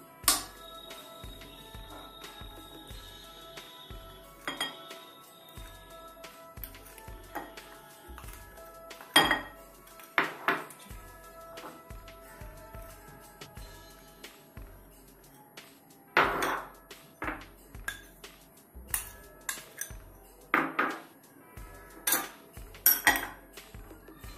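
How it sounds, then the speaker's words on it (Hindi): A spoon stirs spices and cracked egg into raw chicken in a bowl for dhaba-style chicken pakora, making quiet, irregular clinks and taps against the bowl with short pauses between. "चलिए मसालों को चिकन में मिक्स करते हैं।"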